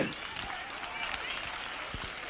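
A church congregation claps hands during a Sunday morning service, a dense, steady patter of many hands filling the room with some voices mixed in.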